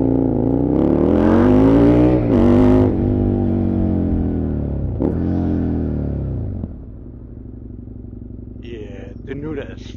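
Husqvarna Nuda 900R motorcycle with a full carbon fiber body, its engine revving loudly and close, rising and falling through several throttle blips before settling to a lower rumble, with brief voices near the end.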